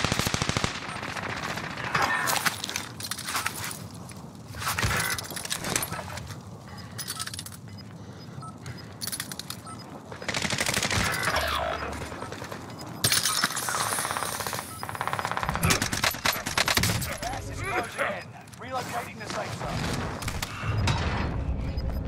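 Bursts of automatic gunfire crackle through a battle royale video game firefight, with rapid repeated shots and mechanical clatter recurring throughout, loud and dense, with no voices.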